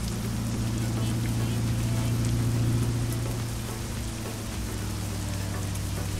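Heavy rain pours down steadily in a truck-driving video game, a dense, even hiss with a low rumbling hum beneath it throughout.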